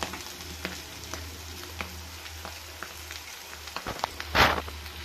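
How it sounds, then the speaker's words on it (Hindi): Potato samosa rolls fry in oil over a medium flame, a low, steady sizzle with scattered pops and a brief louder burst of crackling near the end. "मीडियम फ्लेम पे ही इसे फ्राई कर रहे हैं।"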